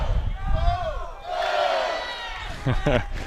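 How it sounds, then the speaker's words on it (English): Rival groups of fans shout and cheer "Go Blue" across each other at a Michigan college tennis doubles final, with loud rising voices and chanting from a crowd at close to mid range. "The competing factions of fans here shouting across at each other, cheering "Go Blue.""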